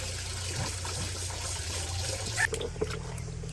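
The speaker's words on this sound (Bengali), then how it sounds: "তো ডিমগুলো ধুয়ে টুয়ে রেখে দিব।" Eggs being washed in water at a village home, a soft continuous trickle and slosh with a low steady hum underneath and a couple of brief knocks near the end.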